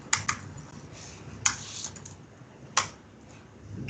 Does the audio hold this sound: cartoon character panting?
no